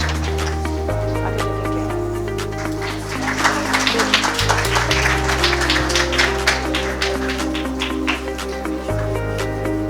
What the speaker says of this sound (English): Let's all applaud each one of them.